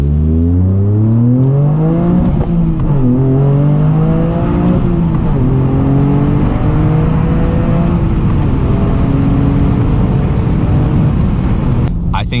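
A 2023 Toyota GR Corolla with 300 horsepower and all-wheel drive accelerates hard, its engine note climbing steadily through several rising sweeps as it pulls through the gears, loud and close throughout.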